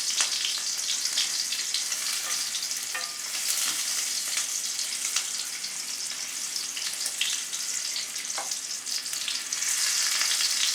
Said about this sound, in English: Just turning the meatballs.